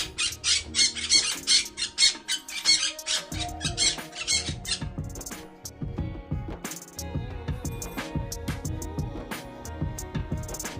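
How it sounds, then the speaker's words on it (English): A parrot squawks in a rapid series of harsh, loud calls in the first few seconds, then softer chattering and scattered clicks follow, close and alone. "Parrot."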